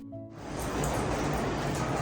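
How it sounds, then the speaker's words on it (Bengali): Rain falls steadily outside, a continuous soft hiss that swells in after a brief quiet start and stays even and moderately loud. "বাইরে এইরকম বৃষ্টি হচ্ছে"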